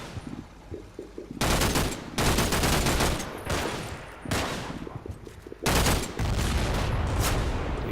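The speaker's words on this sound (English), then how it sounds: "Why, hello there. Mr. Vickers machine gun." Sustained bursts of Vickers machine gun fire in the Combat Mission: Battle for Normandy war game, loud rapid rattling volleys separated by short pauses, with battlefield rumble between bursts.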